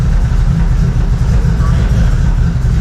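A car engine idles low at about 500 RPM, close and steady, with a constant rumble and no change in pitch.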